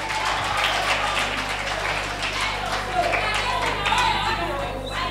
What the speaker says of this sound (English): A round of applause for Jessie again.